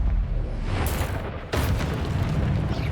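Confringo fire-blast spell from Hogwarts Legacy, a deep booming explosion with a sharp burst partway through, loud and close, followed by a rumbling tail.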